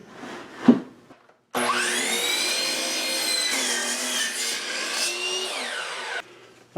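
A power saw spins up and rips through a wood board set against a clamped stop block, a loud sustained whine with tonal ringing lasting several seconds before cutting off, preceded by a brief knock.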